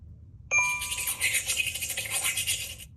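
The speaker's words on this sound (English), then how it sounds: "So the toothbrush came across the screen and cleaned the teeth there. That was the sound that we heard." An iPad app plays a toothbrush scrubbing sound effect as a cartoon brush cleans teeth, a bright, fizzy back-and-forth bristle scrub with a short chime at the start, lasting a couple of seconds on its own.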